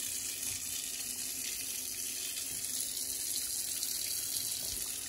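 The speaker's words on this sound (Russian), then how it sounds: "Нет, включим воду холодную. Наберем воду." Cold water pours steadily from a kitchen tap into the sink of a country house, a continuous close splashing hiss with no talk over it.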